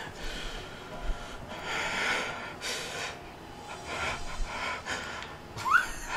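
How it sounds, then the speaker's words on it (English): Erratic breathing with gasps and snorts, close and fairly quiet, in uneven bursts while someone talks. "Why are you breathing so erratically?"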